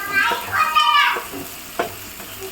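Onions sautéing in a pan for a drumstick and boiled egg curry, a steady sizzle with scattered scrapes and clinks of stirring, broken by a few short bursts of voice.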